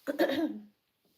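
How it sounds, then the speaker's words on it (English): A single harsh cough, close and loud, lasting under a second, followed by quiet. "So if you hear me coughing and all of that, that's why."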